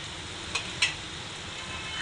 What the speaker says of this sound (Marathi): आता आपण अंडी टाकून घेऊया याच्यामध्ये